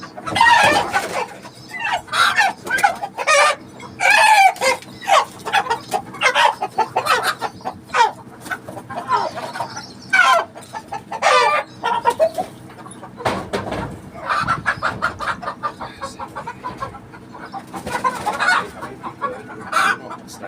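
Chickens cluck repeatedly nearby in short irregular bursts, with a rooster-like call among them and some quiet background noise.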